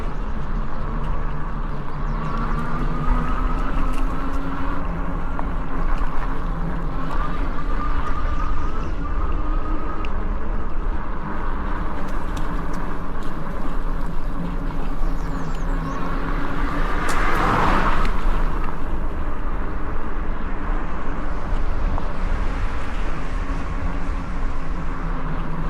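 Steady stream of cars on a busy road between Weymouth and Fort Point, with continuous tyre and engine noise close by, a siren-like tone passing briefly in the middle.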